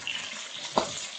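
Potatoes fry in a skillet with a soft continuous sizzle, broken by one brief louder clack of a utensil near the middle, and no voices.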